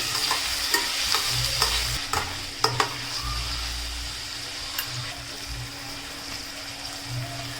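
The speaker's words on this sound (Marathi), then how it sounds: "टोमॅटोसुद्धा आपल्याला कांद्यासोबतच चांगला फ्राय करून घ्यायचा आहे" Chopped tomato fries with onion, ginger and garlic in a pan, giving a continuous bright sizzle broken by spoon scrapes and clinks against the metal, with no voices present.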